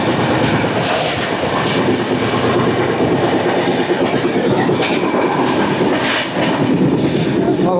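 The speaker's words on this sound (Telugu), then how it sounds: "100 km/h తోటి స్కిప్ చేస్తున్నాం మధుర స్టేషన్ని." A train passes through Mathura station at about 100 km/h, heard from inside as a loud, steady rumble with rattling wheels and clicking over the rails.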